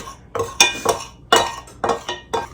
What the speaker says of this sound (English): now we're just going to cut in our butter until we get something that kind of resembles a sand texture